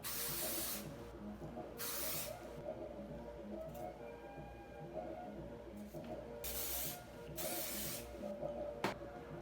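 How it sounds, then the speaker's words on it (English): Dry conditioner spray hisses onto hair in several short bursts separated by pauses, close and fairly soft. "So let's take some of this spray, and I'm gonna just go through this really good."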